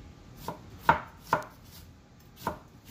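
A knife slices a small white onion thinly on a board, four distinct chops in an uneven rhythm, close and fairly crisp against a quiet background.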